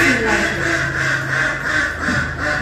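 Ducks quack repeatedly in a nasal, steady chorus close by, with a person talking over them.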